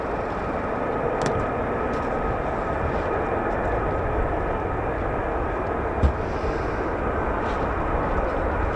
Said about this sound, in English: Now the engines you can hear sort of spooling.